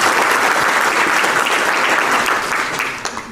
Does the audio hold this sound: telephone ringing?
no